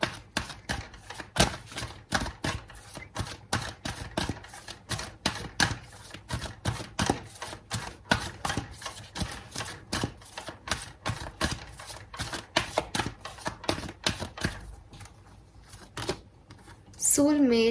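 Tarot cards are shuffled and drawn from a deck close by, making a rapid run of crisp clicking taps that continues through nearly the whole span and thins out near the end.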